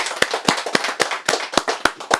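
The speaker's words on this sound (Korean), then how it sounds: "그래서 그분에 대해서 우리 박수 한번 쳐줍시다." Eight or nine sharp, evenly spaced hand claps from an audience at a lecture, close and fairly loud, with no voices.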